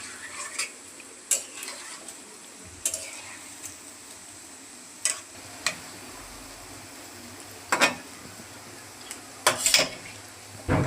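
Jackfruit bora pitha frying in oil with a soft background sizzle, broken by intermittent clinks and scrapes of a utensil against the pan, close by.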